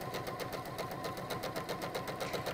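A sewing machine with an odd, unhappy running sound keeps stitching in a quick, even rhythm of repeated pulses, fairly quiet and continuous.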